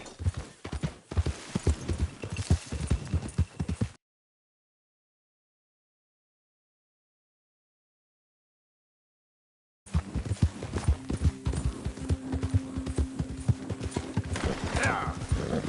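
Horse hooves clip-clop in a steady, fairly close rhythm in Red Dead Redemption 2, breaking off into several seconds of silence before the hoofbeats resume, with a brief whinny-like tone.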